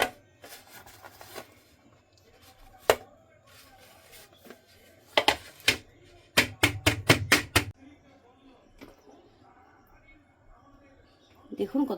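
A knife cutting through set, creamy no-bake mango pudding, making soft scattered taps and a quick burst of rapid chopping strokes, with quiet pauses between.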